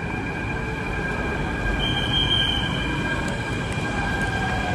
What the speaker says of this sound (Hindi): लास्ट मेट्रो नहीं आई, आएगी अभी।